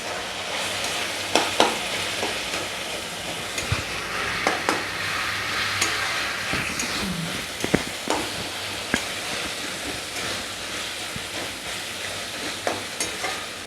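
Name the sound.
chicken keema frying and being stirred in a pan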